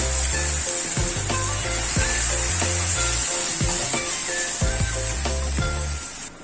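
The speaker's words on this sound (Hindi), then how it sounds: "अब एमा डाल दे हम जो पीस के रखे लहसुन अदरक और प्याज के पेस्ट में डाल देबो। बढ़िया से भून लेबो लाल के बदले।" Garlic, ginger and onion paste frying in a pan for a soybean and egg curry, with a steady close sizzle broken by repeated knocks and scrapes of stirring, no voices.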